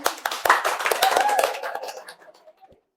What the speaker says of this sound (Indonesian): Terima kasih, kita kasih aplaus.